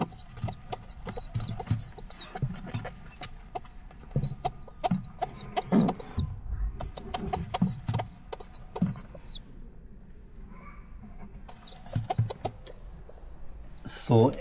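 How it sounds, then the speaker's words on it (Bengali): A grey pigeon feeding its two chicks: repeated high squeaky begging chirps come in rapid bursts with short pauses, alongside rustling and flapping nearby, and a voice talks faintly at times. "একটা ঘোলা কবুতর দুইটা বাচ্চাকে ফিডিং করাচ্ছে"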